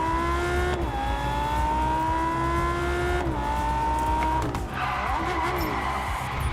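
Lamborghini Sterrato engine in the racing game Test Drive Unlimited Solar Crown, loud and steady, revving through rising harmonic sweeps that drop at each gear change, with a burst of tire squeal near the end.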